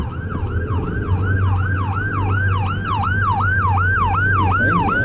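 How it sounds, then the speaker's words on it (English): An emergency vehicle siren wails behind a car on a roadway, rapid yelp cycles loud and steady over road and engine rumble. "Where's the siren coming from here?"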